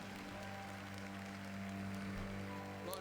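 A Spanish-speaking church congregation claps together for God at the close of a service, a steady, faint wash of applause over a low background hum, with no voices standing out.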